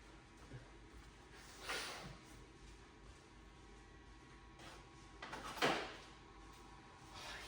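A drawer slides and rattles twice, a softer shuffle first and then a louder scrape, with quiet pauses between and no talking.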